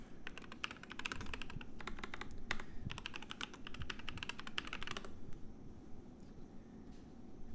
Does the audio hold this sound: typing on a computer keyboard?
yes